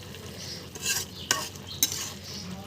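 Puti fish fry with vegetables in a pan, giving a soft continuous sizzle under stirring scrapes and a couple of sharp utensil clinks against the pan.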